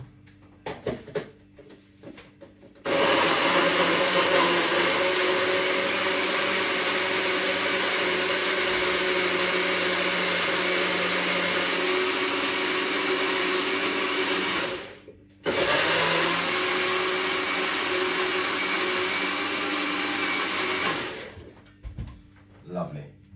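A kitchen blender whirs loudly and steadily, blending a juice close by. It runs for about twelve seconds, cuts out briefly, then roars again before stopping. A few bumps and handling noises come before and after the run.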